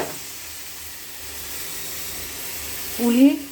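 Brinjal frying with chili powder in a pan gives a soft steady sizzling hiss, with a brief louder stir near the end and a voice speaking over it.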